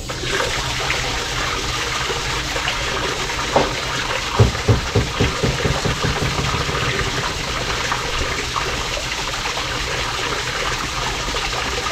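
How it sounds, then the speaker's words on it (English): Tap water runs steadily into a drain under a pipe, a continuous broadband rush with a few brief splashy bumps partway through, close and fairly loud with no talking. "We're going to turn this water on."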